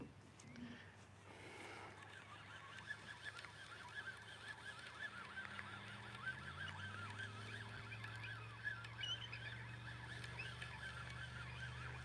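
A bird near the Cooper River gives repeated honking, goose-like calls at close range over steady outdoor background noise, with low rumbling hum underneath throughout.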